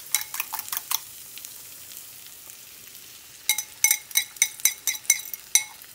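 Eggs frying in a pan give a faint, steady sizzle under a series of sharp metal clinks and taps of a utensil against the pan, clustered in two busy bursts.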